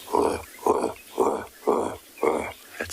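A safari guide's voice imitates a male leopard's sawing call, five rasping, rhythmic in-and-out strokes like a bow saw through a wooden plank, close and fairly loud with short gaps between.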